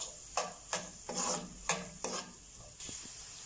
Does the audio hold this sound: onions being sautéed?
yes